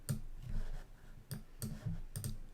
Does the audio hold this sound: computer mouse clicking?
yes